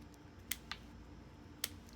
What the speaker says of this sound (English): Then I'm just going to cut back just a little bit. These ones down here, really cut them back.